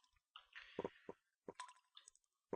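Sparse water droplets drip in a cave-like game world of Dawning, a few distinct plinks and ticks spaced irregularly against near silence, with soft splashy textures between them.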